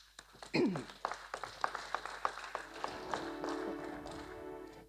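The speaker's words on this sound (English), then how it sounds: "Please give them a round of applause." Audience applause for committee members at a pharmacy fellows' investiture ceremony, a smattering of hand claps that swells briefly then thins into scattered taps, moderately distant in a large hall.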